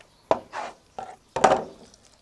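A knife chops kidney on a board, making four close, distinct woody thumps with short scraping tails in an otherwise quiet kitchen.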